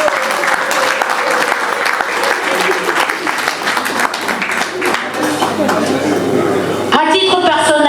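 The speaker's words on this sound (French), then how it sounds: "je vous prie d'applaudir très très très très fort" An audience at a formal installation ceremony in Paris applauds loudly and steadily, dense clapping filling the room for several seconds before it thins out and stops.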